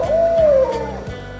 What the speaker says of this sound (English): It's a baby owl. Can you hoo like an owl?